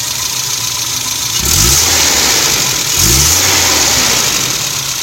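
A 1989 Isuzu Trooper RS with a basic 4-cylinder engine runs close by, a steady idle broken by two short revs about a second and a half apart, loud and alone.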